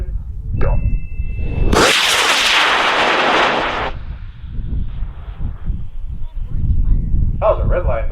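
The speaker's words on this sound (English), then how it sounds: "We're going to send Nate's rocket up in 5, 4, 3, 2, 1, go." A model rocket with an altimeter launches from a field, the motor igniting in a loud roaring hiss that lasts about two seconds before fading, followed by distant outdoor noise and people talking nearby.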